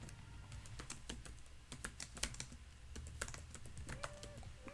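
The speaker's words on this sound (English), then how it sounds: "Let's type that." Fast typing on a computer keyboard makes dense, quiet key clicks in uneven bursts, heard close up with no voice.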